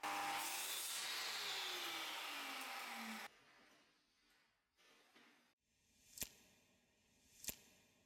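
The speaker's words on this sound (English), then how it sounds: "I then use the miter saw to cut 12 to 14 cm sections from the oak and Padauk strips" Miter saw cutting oak and padauk wood strips: a loud, close blade whine with a falling pitch as it bites through the wood, then quiet handling noises and two sharp knocks.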